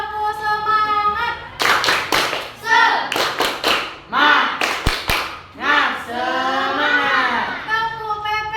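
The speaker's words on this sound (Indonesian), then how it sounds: "Biar lebih semangat, kita tepuk semangat dulu." Group of people doing a rhythmic 'tepuk semangat' cheer clap at a school academic supervision session: bursts of patterned, synchronized claps with short pauses, interleaved with voices chanting and speaking.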